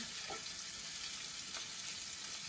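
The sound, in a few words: black bean burgers frying in a pan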